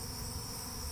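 A honeybee swarm buzzing around a beehive, heard as a dense, steady insect drone that holds loud and unbroken for the whole moment, with no voices.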